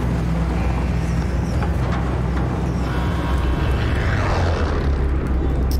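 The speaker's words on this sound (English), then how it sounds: "I can't hear shit these guys are saying over the plane." Constant loud droning roar of an airplane engine in the video game Call of Duty: Warzone, a dense unbroken rumble throughout the deployment flight with no talk over it.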